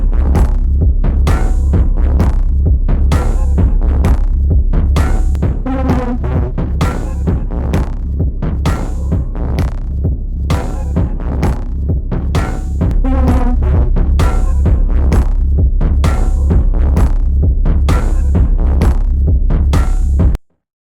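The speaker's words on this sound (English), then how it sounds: "So that's how it sounds on a drum loop" A drum loop processed through the Noisebud WUT experimental sound design plugin, pulsing as loud, dense, rhythmic throbbing hits, evenly repeated for about twenty seconds before stopping abruptly.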